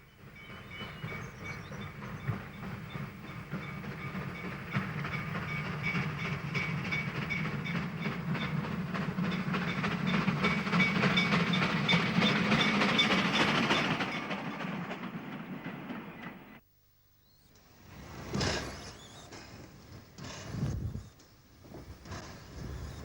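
Baxter, an 1877 steam locomotive built in Whitehaven, running on the Bluebell Railway: a steady rumbling, rattling passage that swells and then cuts off, followed by a few sharp separate bursts.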